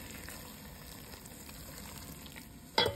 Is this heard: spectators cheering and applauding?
no